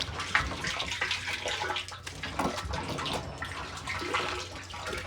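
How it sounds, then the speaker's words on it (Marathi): Water runs steadily and loudly, splashing into a 200-litre can as it fills, a continuous close rushing and gurgling with no speech over it. "ही एक कॅन भरली 200 लिटरची, आणि ही एक कॅन 200 लिटरची भरली"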